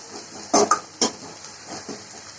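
A spoon clanks and scrapes against a pan several times in quick succession while vegetables sauté with chili powder and turmeric for sambar, close and fairly loud with quiet gaps in between.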